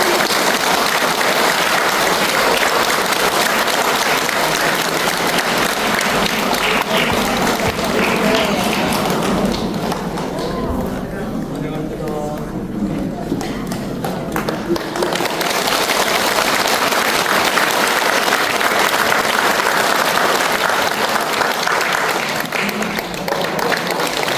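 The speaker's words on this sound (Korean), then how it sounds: "큰 박수 부탁드립니다" A congregation at a regular Buddhist dharma service claps loudly for first-time attendees, a dense continuous roar of hands lasting many seconds, briefly dipping midway before swelling again, with voices mixed in.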